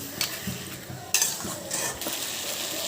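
Potato curry of boiled potatoes being stir-fried in a pan: a spatula scrapes and stirs in uneven strokes over a soft, steady sizzle, close and moderately loud, with no voices.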